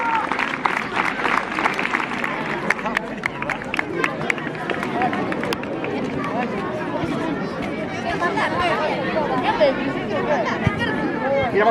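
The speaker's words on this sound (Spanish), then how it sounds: "Un fuerte aplauso." Crowd applause and scattered clapping at a youth football (alevín) trophy ceremony, mixed with steady chatter and murmuring voices throughout.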